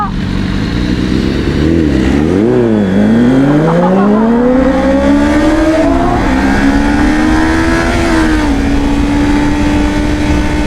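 A car accelerating hard off the line while racing a Corvette: a very loud, close engine revs and climbs in pitch, wavers through shifts, then holds a strained high drone, with no talking.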